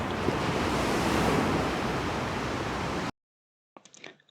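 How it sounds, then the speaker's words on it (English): Ocean waves on a Gulf of Mexico beach at Boulevard Peninsula, a steady, loud wash of surf and wind noise for about three seconds, then a cut to near silence with faint rustling. "boondocking on the beach just feet away from the ocean"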